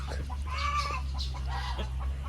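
Farm chickens, suffering from the heat, cluck softly and repeatedly up close over a steady low electrical hum.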